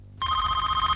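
A telephone bell rings steadily and loudly, a continuous trilling ring starting abruptly and holding without pause, with no talk over it.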